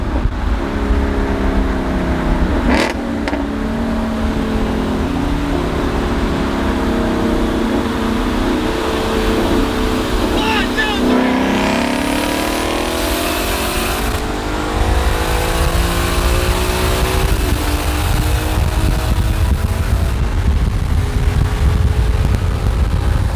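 A Toyota Supra race car launches on a racing run, its engine screaming up through the gears with sharp shifts and rising pitch, loud and close over steady wind roar.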